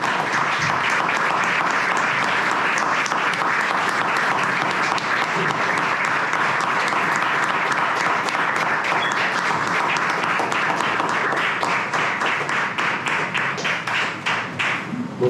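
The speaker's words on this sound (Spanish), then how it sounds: "le voy a pedir que si podemos hacer una ronda de aplausos" A room of people at the Gol Sostenido book presentation gives a long round of applause in memory of someone who died, loud and dense clapping that continues steadily before thinning slightly toward the end.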